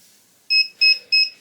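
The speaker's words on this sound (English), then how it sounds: "Okay, there's the timer." Timer on a sublimation heat press beeping three times in a quick, evenly spaced series, loud and close with nothing else around it.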